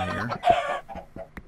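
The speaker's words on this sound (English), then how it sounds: "Okay, we have a bunch of chickens down here." Chickens clucking in Minecraft, a few short clucks in a row at moderate loudness, with no talk over them.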